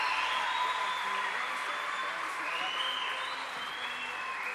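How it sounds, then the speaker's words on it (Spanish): Audience applause welcomes a guest onto a stage at a camp panel event, a steady dense clapping from a crowd that holds evenly throughout. "Un fuerte aplauso."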